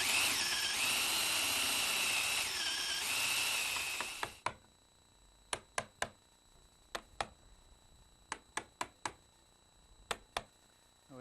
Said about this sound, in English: the first thing I want to do is mortise out for the box